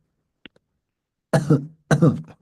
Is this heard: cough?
yes